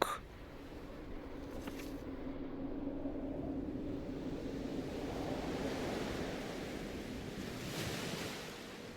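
Ocean surf washes steadily onto the seashore in the video game Death Stranding, a continuous broad roar of breaking waves with faint wind noise, no voices over it.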